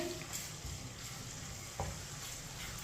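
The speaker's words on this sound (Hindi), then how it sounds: "अदरक और लहसुन को मैंने मिक्स कर लिया है। 1 मिनट के लिए पका लेंगे।" Crushed ginger and garlic fry over medium heat in a pan, a soft, even sizzle with a faint stirring scrape and one small knock, close and quiet, no voices.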